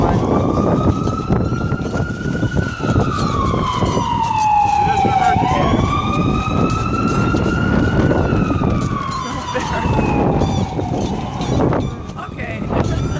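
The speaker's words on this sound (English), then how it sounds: "Yeah, there's a siren going by." Emergency vehicle siren passing close by, a loud wailing tone sweeping up and down in repeated cycles over traffic noise, with people talking in the background.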